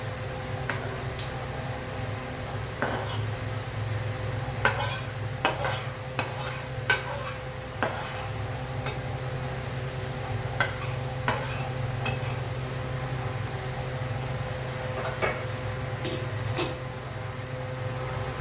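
A spoon scraping and clinking against a pot as cooked chickpeas with minced chicken are transferred into a serving bowl, scattered sharp metallic knocks over a steady low background hum.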